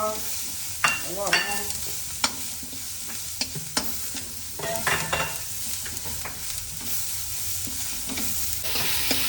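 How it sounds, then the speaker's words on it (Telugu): Tomatoes being stirred in a hot pan, with a steady sizzle of frying and repeated scraping clatter from the spoon, close and moderately loud throughout. "కొంచెం సేపు ఒక 5 minutes తిప్పి టమాటాలు కూడా మగ్గిచ్చేస్తాను."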